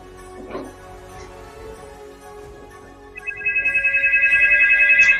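A phone ringtone starts partway through and repeats in a fast pulsing trill that grows steadily louder, ringing clearly over quiet indoor room noise.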